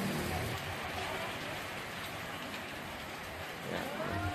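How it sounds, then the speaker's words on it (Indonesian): Light, not very heavy rain falls steadily, a continuous soft hiss of drops spread evenly over the whole stretch, with a slight swell near the end and no voices. "saat ini baru terjadi hujan lagi pada bulan September"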